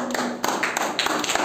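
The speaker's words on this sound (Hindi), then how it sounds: "शाबाश ताली बजाओ सब" Children clap in a classroom in a short burst of scattered, uneven claps and taps that sound close and moderately loud.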